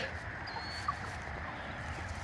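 Pasture-raised Cornish Cross broiler chickens in their seventh week make soft, low clucks and murmurs at a distance, faint over a steady outdoor background hum.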